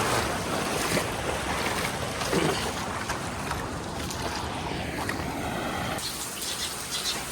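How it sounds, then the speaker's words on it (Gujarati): Steady rushing water and rain wash fill the whole stretch, a dense broadband roar with gusty wind noise, no voices. "તો મિત્રો વરસાદ હજી એટલો ને એટલો ચાલુ છે"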